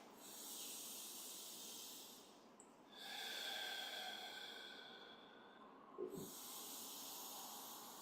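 Deep breaths drawn through the nose with eyes closed during a yoga stretch session, faint, steady airy hissing that swells and eases in a long slow rhythm, with a small soft bump near the end.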